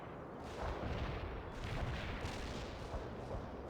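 Distant rumbling booms and scattered gunfire from incoming fire in the real-time strategy game World in Conflict, a continuous muffled barrage of moderate loudness with no speech.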